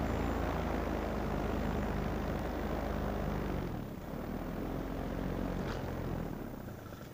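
A propeller airplane engine drones steadily while circling to land in a flight simulator game, a continuous loud hum that dips slightly midway and holds to the end.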